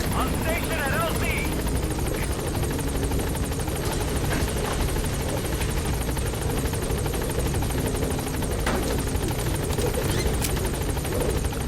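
The Pequod helicopter in a Metal Gear video game arrives at the landing zone with a steady, loud rotor roar that fills the whole stretch, while a voice talks faintly underneath.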